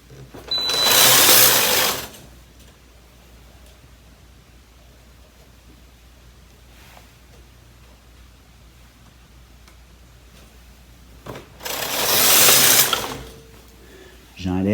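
A Brother KH930/KH940 knitting machine carriage sweeps across the needle bed twice in single-bed jacquard work, each pass a brief loud whooshing rattle lasting about two seconds, separated by a long quiet stretch of faint room noise.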